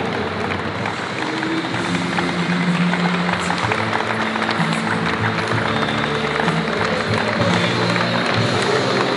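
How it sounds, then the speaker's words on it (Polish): Crowd applauding youth football players from a talent academy at a championship celebration, a loud, dense, continuous wash of clapping and cheering that holds steady throughout. "Wielkie brawa dla zawodników"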